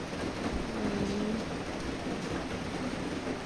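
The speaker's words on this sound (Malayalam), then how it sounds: "അവിടെയൊക്കെ നല്ല മഴയാണ്" Heavy rain pours steadily and loudly through the whole stretch, a dense continuous hiss with a low rumble underneath and no voices.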